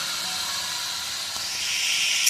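French fries frying in hot oil give a steady, close hiss that grows a little louder toward the end, with no voices.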